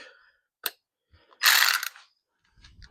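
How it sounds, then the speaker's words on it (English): A cordless ratchet snugs down bolts on a 2009 Silverado with a 5.3 engine: a few isolated clicks, then one short whirring burst of about half a second, close and otherwise quiet. "cordless ratchet just to snug them down."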